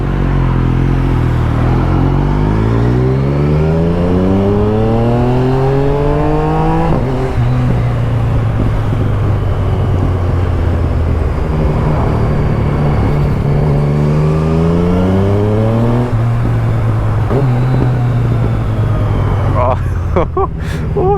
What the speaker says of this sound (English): Oh, I love the backfires.